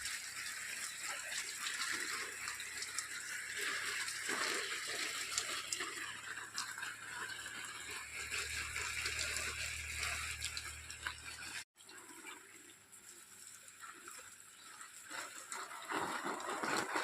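Water being poured onto indoor and outdoor potted plants, a steady gushing splash that runs continuously, breaks off briefly near the end, then resumes.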